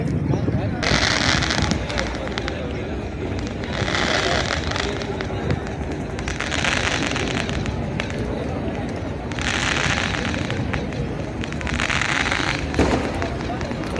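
Bursts of crackling firecrackers go off in repeated waves at night on the Ganges at Kashi, loud and dense, with a steady background rumble and people talking.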